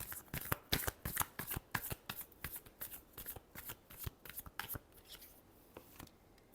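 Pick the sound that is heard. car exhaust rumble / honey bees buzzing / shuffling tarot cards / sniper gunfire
shuffling tarot cards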